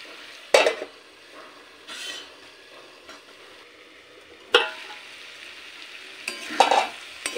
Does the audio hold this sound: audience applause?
no